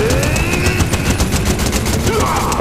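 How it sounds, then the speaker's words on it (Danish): Rapid automatic gunfire in the video game Fortnite, a dense burst of repeated shots with rhythmic cracks, loud and close throughout. "Der er nogen, der helt ægte skyder efter os rigtige players."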